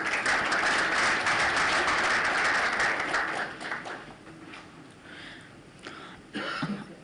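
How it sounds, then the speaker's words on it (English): Audience applause at a climate action event in Kenya, a dense burst of clapping for about three and a half seconds that thins into scattered claps, with a brief cough-like noise near the end. "Ladies and gentlemen, please give a round of applause."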